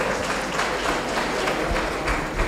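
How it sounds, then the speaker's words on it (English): Audience applause for a professor at an African Traditional Medicine Day event, a steady wash of clapping at moderate level throughout, without talk over it. "please a round of applause for Prof"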